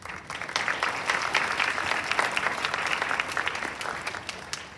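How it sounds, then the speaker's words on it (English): A crowd at the ECMSI 2022 culmination graduation ceremony bursts into applause, a loud, sustained roar of many hands clapping close by with no talk over it. "We deserve to give ourselves a huge round of applause"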